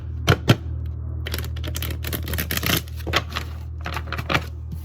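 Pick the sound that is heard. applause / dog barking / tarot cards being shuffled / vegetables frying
tarot cards being shuffled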